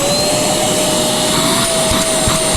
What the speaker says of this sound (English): I'm gonna start vacuuming this out.